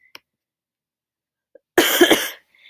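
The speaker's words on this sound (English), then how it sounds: "I do have a little bit of a cough, so I'm so sorry if I do have to cough during this video" After near silence with a couple of tiny clicks, one close, sharp cough bursts out and fades quickly.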